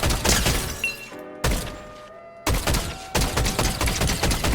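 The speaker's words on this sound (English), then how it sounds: "So right now I'm using the OXR rifle." Rapid bursts of OXR rifle gunfire in the Fortnite video game, loud and close, firing in several volleys with brief pauses between them.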